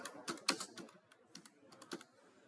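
Quiet keystrokes on a computer keyboard as a search term is typed into Google, a quick irregular run of clicks with short pauses and no voices.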